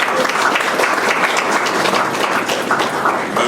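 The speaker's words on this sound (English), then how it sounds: "a round of applause for" A dense round of applause from an audience at a Chamber of Commerce business gathering in Anguilla, steady and loud throughout with no pauses.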